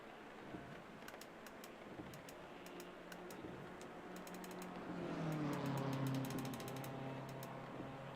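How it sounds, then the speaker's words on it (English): Windscreen wipers on a race car in the Assetto Corsa Competizione racing game, rainy Monza, ticking and clicking in a repeated mechanical pattern over a low rumble, with a swelling whir toward the end, quiet and close, no voices. "wipers on, lights on, rain light on"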